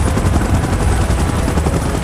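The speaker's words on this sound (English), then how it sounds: "Chopper in position." A helicopter in the PUBG Mobile video game roars with a loud, continuous rotor thrum that stays steady and close throughout.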